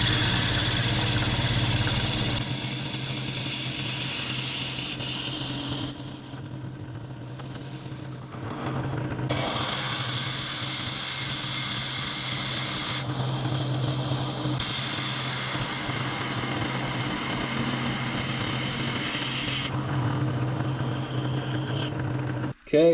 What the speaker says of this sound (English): So we got the Jacob's chuck in, using this smaller size Forstner bit.